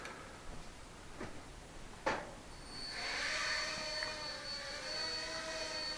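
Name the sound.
Heli-Max 1SQ V-Cam quadcopter flying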